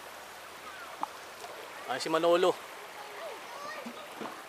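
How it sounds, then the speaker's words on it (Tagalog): River water flows softly in a steady background wash while people bathe, with a brief spoken exclamation in the middle and a few faint splashes. "Nasa ilog tayo."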